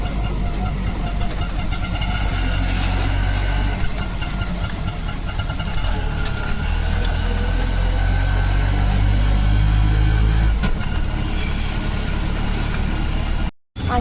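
A jammed road in India, with engines idling and rumbling close by in a continuous dense wash of traffic noise, a faint voice underneath, ending abruptly.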